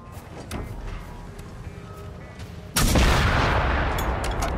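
Gunshots ring out: after a quieter stretch with faint background noise, a loud, sharp burst of gunfire erupts and its rough, broadband roar carries on for the rest of the moment.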